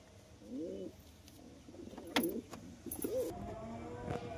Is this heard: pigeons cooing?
yes